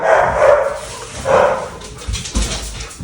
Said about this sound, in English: I am going to go check on whatever the dogs are barking at.